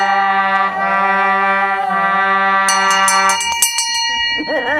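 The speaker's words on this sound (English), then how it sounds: "That was the bell solo." A struck bell rings as a solo during a live sea-song performance, its long sustained tone layered with voices and a few brighter metallic strikes toward the end.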